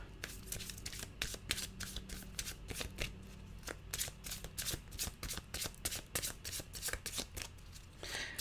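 Cards being shuffled in a rapid series of crisp riffling bursts, repeating steadily throughout at close range, with no talking.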